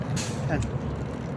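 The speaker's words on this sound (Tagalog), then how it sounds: "Yan ah, alis na mga bus." City buses at a bus station release short air-brake hisses, one quick burst followed by a smaller one, over a low engine rumble and traffic noise.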